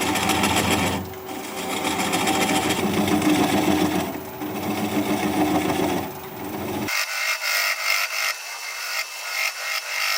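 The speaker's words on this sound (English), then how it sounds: "I'm going to turn the speed down to about 400 RPM and just keep working it away" A wood lathe turns a walnut piece at low speed while a 3/8 inch bowl gouge cuts it, making a continuous scraping, rasping hiss with brief dips, and the sound changes abruptly near the end.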